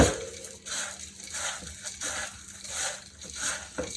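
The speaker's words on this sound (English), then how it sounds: "Mix it all around." Butter and cheese are stirred through an onion casserole, with a spoon scraping in a steady, repeating rhythm of soft, wet, close-up strokes.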